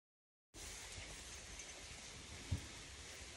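Heavy rain pours steadily around a car near Tonoyama Tunnel in Kanagawa, starting abruptly as a dense, even hiss that stays loud and constant with one small thump partway through, no talking.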